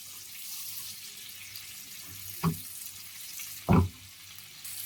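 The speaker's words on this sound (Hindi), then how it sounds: "सब्ज मिर्चों को भी 1 मिनट के लिए हमने भून लिया।" Cumin seeds and chopped green chillies frying gently in ghee, a faint, steady sizzle with two brief knocks of a spoon against the pan.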